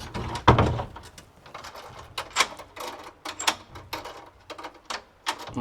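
A key works the lock of an old church door in a remote Serbian village, giving a string of metallic clicks, scrapes and rattles in irregular bursts, close and moderately loud, with no talking.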